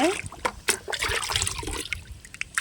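A rice-water plant solution is poured from a mug into a bucket, splashing and trickling close by in short bursts, with faint background sounds.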